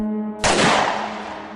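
A single gunshot sound effect goes off sharply after a brief tonal lead-in, its loud blast decaying over about a second of lingering rumble, with no voice over it.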